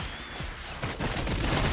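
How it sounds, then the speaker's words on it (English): Rapid volleys of gunfire from a video game, a dense crackling fusillade that swells louder in the second half and continues without a break. "what is going on with that gunfire over there?"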